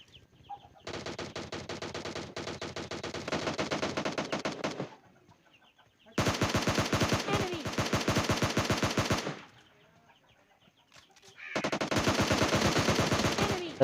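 Automatic gunfire in the mobile battle-royale game PUBG Mobile Lite comes in three long, loud, rapid-fire bursts separated by short quiet gaps.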